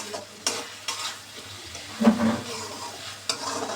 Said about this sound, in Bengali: শুটকিগুলো দিয়ে হালকা আছে আর একটু ভাজা করে নিব, কষিয়ে নিব মশলার মধ্যে।